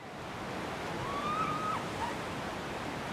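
The wild Chattooga River rushes over Woodall Shoals on the Georgia–South Carolina border, giving a steady broadband roar of water, with a faint bird whistle briefly audible over it.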